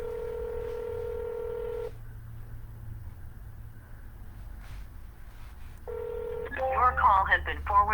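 Telephone dialing tones sound during a real estate cold call to Beverly Hills and Brentwood, a steady dial tone followed by a quick string of keypad DTMF beeps, heard near and clear.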